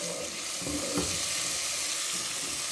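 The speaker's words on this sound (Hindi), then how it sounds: "इसको थोड़ा सा भून लेंगे मसाले को" Spice masala with tomato, potato and spinach frying in a pan, giving a dense, continuous close-up sizzle with a few soft stirring scrapes and no voices.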